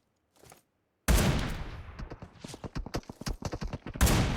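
Gunfire in the mobile game PUBG Mobile: after a short faint pop, a loud burst of rapid shots hits, then a quick series of sharp cracks and one more heavy blast at the end.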